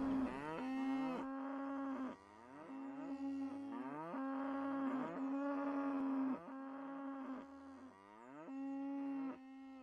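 Cow moos in an indie video game, a run of long, loud, overlapping lowing calls that repeat one after another with no talk.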